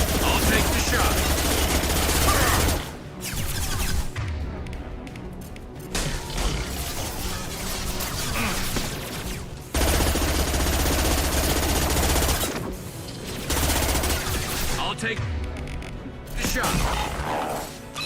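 Sustained automatic gunfire rattles through a Mass Effect 2 firefight in loud, dense bursts with brief pauses, while squad members talk over the shooting.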